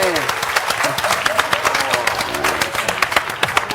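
Audience applause at a Georgian stand-up comedy show, a steady patter of many hands clapping that runs the whole time beneath a voice talking over it.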